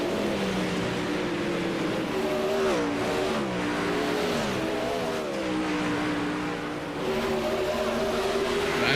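Race car engines in a sim racing game at Knoxville, revving and shifting pitch as the cars accelerate. Steady and fairly loud throughout, with overlapping engine tones.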